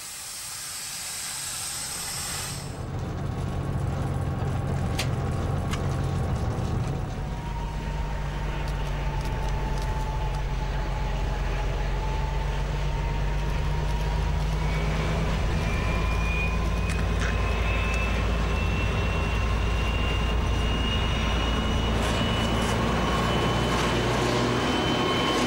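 A class 220 diesel locomotive, a museum engine, hauls a photo-charter freight train between Güsten and Roßlau in Saxony-Anhalt: a loud, steady, deep diesel drone with hissing and rising whine tones as the train rolls past.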